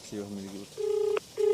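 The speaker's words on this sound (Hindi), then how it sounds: "एसपी साहब से एक बार फोन लगाते हैं।" Telephone keypad tones from dialing a phone, a few short steady beeps in quick sequence followed by longer tones, fairly quiet and close.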